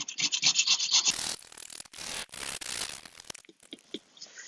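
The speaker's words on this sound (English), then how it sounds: "take a paint scraper or a card scraper and scrape, while this is still a little soft, and scrape the top off" A card scraper is drawn across the still slightly soft top of a wooden chessboard, producing bursts of harsh rasping scrapes with short pauses between strokes and close, quick repeated rubbing near the start.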